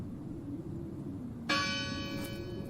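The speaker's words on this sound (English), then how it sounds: "It must be her ringing the bell." A single bell strikes clearly and rings out with a long resonant decay over a low, quiet background rumble, in the video game Draugen.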